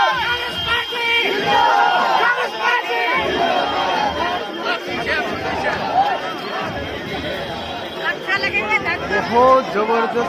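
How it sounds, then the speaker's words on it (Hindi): A huge, dense crowd at Rahul Gandhi's Bharat Jodo Yatra rally fills the air with shouting, chanting and babble, close and loud throughout, with people chattering nearby. "बहुत जबरदस्त भीड़"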